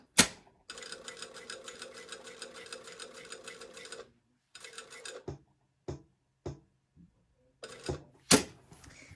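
A sewing machine stitches a tower sleeve placket diagonally, running steadily for several seconds, stopping, then resuming in short bursts punctuated by sharp clicks and knocks, close and alone.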